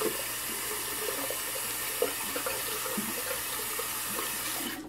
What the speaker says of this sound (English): Rinse it off.